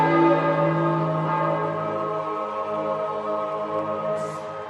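Church bells peal loud and continuous at St. Peter's Square in Rome as a new pope is elected in March 2013, the rich overlapping tones ringing steadily throughout with a slight fade in strength toward the end.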